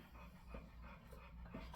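An Old English bulldog pants in the background after coming in from outside, a faint, quick, steady breathing in a quiet kitchen.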